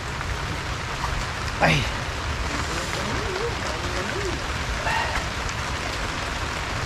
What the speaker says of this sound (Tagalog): Yan na nga yata yung sinasabi kong maulan ng October eh.